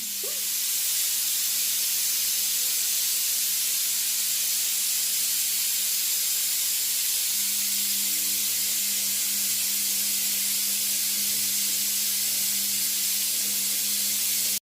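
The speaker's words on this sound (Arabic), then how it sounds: "فانا هرفعه واخرج كل البخار وارجع لكم تاني" Steam releasing from a pressure cooker of lupini beans gives a loud, continuous hiss, close and unbroken for the whole stretch over a low steady hum.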